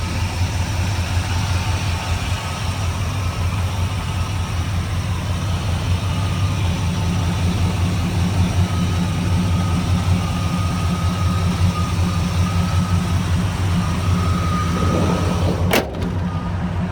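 The 350 Vortech engine of a 1986 Chevrolet Silverado short-bed truck idles smoothly, a steady low hum that holds without change for the whole stretch, with a short sharp click near the end.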